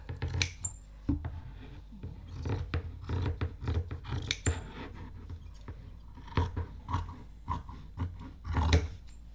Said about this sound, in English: I'm going to cut around this edge